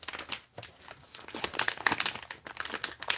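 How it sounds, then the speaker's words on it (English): A wrinkled Chipmunk keto bites snack package crinkles and crackles continuously in irregular bursts, close up and fairly quiet, with no talking. "I'm crinkling a lot here because it was wrinkled"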